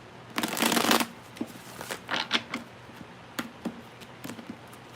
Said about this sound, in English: Get one more shuffle.